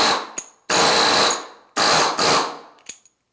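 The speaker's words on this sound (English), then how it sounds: "That's a welding chipper. They have a tool goes in there to chip the slag off and weld in." A pneumatic welding chipper for knocking slag off welds, used in boat-framing work, runs in loud, harsh bursts: a short blip, then two long rattling runs separated by silence, and a brief tail.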